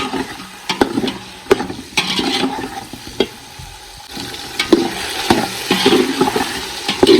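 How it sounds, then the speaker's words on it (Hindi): Onion, garlic and ginger frying in oil for matar pulao, a steady close sizzle broken by repeated sharp scrapes and clinks of a spoon stirring the pan. "अच्छी तरह से भून लेंगे।"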